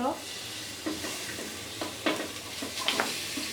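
Meat dropped into a clay cooking pot, soft sizzling with a few light stirring scrapes and clatters, fairly quiet and close.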